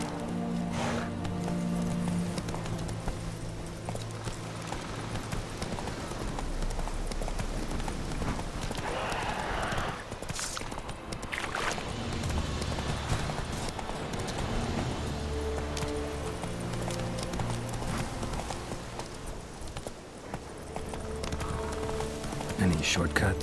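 A horse galloping in the video game The Witcher 3, with continuous rhythmic hoofbeats over game music, a brief whinny, and a voice now and then.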